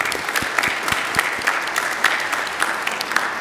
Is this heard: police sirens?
no